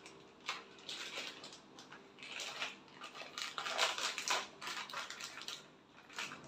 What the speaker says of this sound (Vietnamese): Bây giờ thì mình sẽ xắt xúc xích ra để chiên chơi nhé cả nhà.